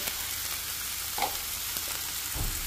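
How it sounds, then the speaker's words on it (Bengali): Chicken, green capsicum and carrot sizzle steadily in a hot pan while being stirred together, with a faint scrape or two rising over a soft, continuous frying hiss. "দেখো আমি ক্যাপসিকাম, গাজর আর চিকেনগুলো সব একসাথে ভালো করে মিক্স করে নিচ্ছি।"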